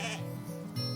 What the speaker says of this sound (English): there's sheep everywhere.